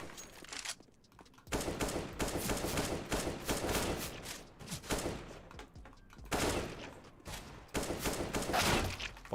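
AK rifle gunfire in a video game: loud, close bursts of rapid automatic fire with short gaps between them, and no talking.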